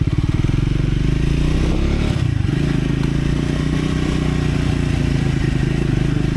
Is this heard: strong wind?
no